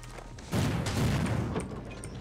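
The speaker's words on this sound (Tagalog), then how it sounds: "Tagal sumabog ang bomba." A single deep, muffled boom of a bomb exploding in a video game rumbles out and slowly fades over a second or so, with no voices.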